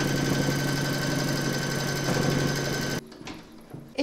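Embroidery sewing machine satin stitching the edge of a coaster, a fast, steady mechanical whir and rapid needle chatter running close and loud for three seconds, then stopping abruptly into quiet handling noises.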